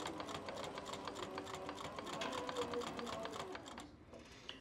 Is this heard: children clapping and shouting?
no